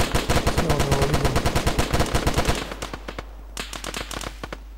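Rapid automatic gunfire in a Red Bear infantry combat game in a desert setting, a long loud burst of evenly spaced shots followed by sparser, more distant single shots and short volleys.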